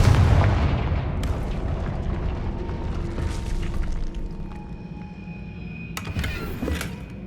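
A Confringo fire spell blasts in Hogwarts Legacy, a loud close explosive burst that fades into a long low rumble of debris and crackle, with a few sharp metallic ringing hits and a second burst near the end.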